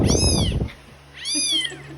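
Two drawn-out cat meows, clear and close, separated by a brief pause, with a low background hum.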